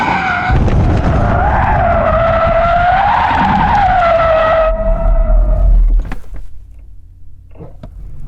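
Tyres of a Porsche Taycan Sport Turismo GTS skid and squeal loudly in a long wavering howl that cuts off abruptly, leaving low road rumble and a few knocks.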